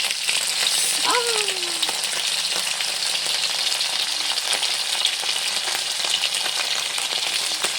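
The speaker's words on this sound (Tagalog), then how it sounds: "So, nananda po prito o bulad." Steady, dense sizzling of dried fish frying in hot oil, continuous and fairly loud throughout, with a brief rising voice-like tone near the start.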